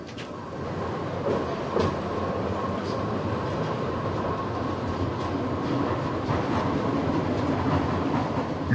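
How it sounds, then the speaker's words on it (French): Carmelit underground funicular metro train in Haifa on Mount Carmel, a steady close rumble and rolling rail noise filling the whole stretch, with faint metallic clicks and squeals over the drone. "Le Carmélite est en fait un transport hybride entre métro et funiculaire."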